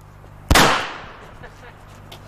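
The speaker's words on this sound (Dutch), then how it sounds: "er wordt hier buiten geschoten even als test" A single test gunshot fired outdoors on a film set cracks loudly and close, then rings off in a long decaying echo against a quiet background.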